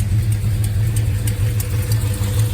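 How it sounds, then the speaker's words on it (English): A 1970 Plymouth Fury III with a 440 big block V8 idling through a Flowmaster exhaust, a steady deep rumble with an even loping pulse, close and loud, no talk. "That is a nice idle."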